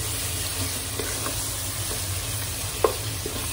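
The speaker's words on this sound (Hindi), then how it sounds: "मैं इसमें ऐड करूंगी ginger garlic paste 1 table spoon add करेंगे और उसे हाई फ्लेम पर कुक करेंगे" Mutton with ginger garlic paste frying on high flame, a continuous close sizzle with occasional stirring scrapes and one sharp clink of a spoon against the pan.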